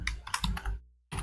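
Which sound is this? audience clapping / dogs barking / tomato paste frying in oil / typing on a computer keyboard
typing on a computer keyboard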